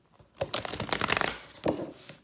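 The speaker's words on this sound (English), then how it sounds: "One more shuffle." Gilded Tarot cards are shuffled in a quick riffle, a close, soft rapid flutter of card edges lasting about a second, followed by a brief second burst.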